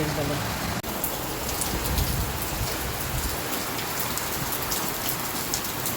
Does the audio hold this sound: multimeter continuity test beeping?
no